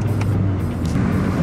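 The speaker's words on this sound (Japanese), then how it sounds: "あ、いい音鳴るわ。" Honda Fit RS hatchback with a stock exhaust muffler accelerating on the road, a steady low engine drone heard from inside the car, brief and fairly loud, no talking.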